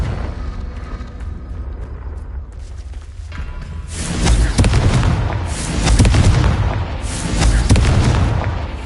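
Confringo blasting spell in Hogwarts Legacy, several heavy booming explosions rolling in after a quieter stretch, loud and rumbling with a long decay.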